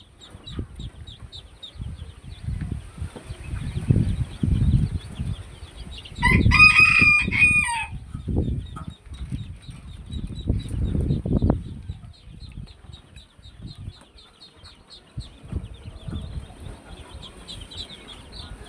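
A rooster crows loudly once partway through, surrounded by steady clucking from a flock of Tiger chickens on a home poultry farm, with faint chirping birds in the background.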